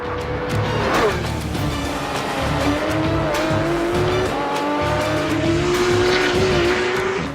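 A Porsche 911 GT3 with a 475-horsepower engine that revs to 9,000 RPM runs on a race track, its engine note rising and falling through gear changes with brief tire squeal, loud and close throughout.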